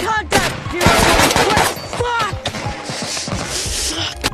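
Gunfire from a war film set in Afghanistan: bursts of rifle and machine-gun shots crackle close and loud in quick, uneven volleys, with shouting voices mixed in.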